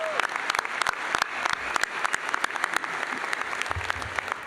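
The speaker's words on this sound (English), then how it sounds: "Another round of applause for Adam." Sustained applause from an audience at a College of Veterinary Medicine commencement ceremony, dense clapping heard from a middle distance, fading slightly toward the end.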